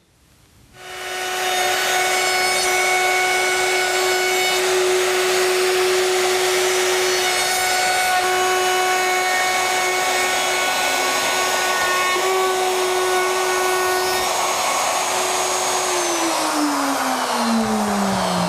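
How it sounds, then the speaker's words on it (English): A Bosch router trimming a chicken coop panel flush to its timber framework, a loud steady high-pitched whine that starts after a brief quiet moment and runs continuously, with a slight pitch drop near the end as the cut loads. "It's just ready now for the router treatment, going all around, trimming everything back neat to the framework."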